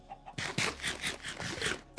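Rapid, rhythmic clucking from a Minecraft chicken, close and fairly loud, with a few sharp bursts in quick succession and no talking.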